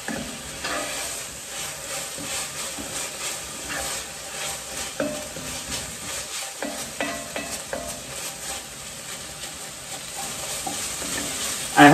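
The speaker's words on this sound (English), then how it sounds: "And again, that just lightly sauteing" Vegetables being lightly sautéed in a pan give a steady soft sizzle with frequent stirring scrapes and utensil clicks, heard up close and mostly alone, with no talk.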